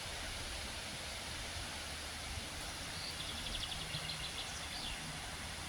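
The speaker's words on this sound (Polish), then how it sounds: "Woda szumi." Steady, even rush of water at a lake, continuous and fairly soft, with faint bird chirps drifting in partway through and no talking.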